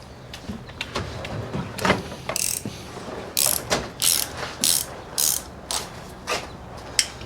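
A 9/16 wrench ratchet working on a tired, smoking small-block Chevy 350 during teardown, giving a series of rapid clicking ratchet strokes in irregular bursts, fairly close and clear.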